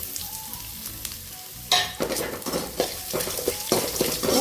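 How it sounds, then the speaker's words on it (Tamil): Garlic and curry leaves hit hot oil in a pan and burst into loud, crackling sizzling, with stirring scrapes pulsing on top as the frying continues close up. "பூண்டு நல்லா பச்சை வாசனை போகிற அளவுக்கு வதக்கி விட்டுக்கோங்க"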